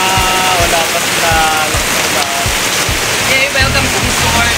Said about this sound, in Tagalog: Umuulan na.